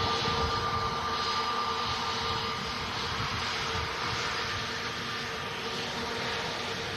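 A C-17 military transport aircraft on approach to Manchester airport, a continuous distant jet rumble with a faint steady whine, holding even and moderately quiet throughout with no talking.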